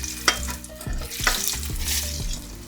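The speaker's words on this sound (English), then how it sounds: "And then we're going to drop them in the oil." Cornstarch-coated potatoes dropped into hot oil, frying with a steady bubbling sizzle and a few sharp splashes and clatters near the start, no voices present.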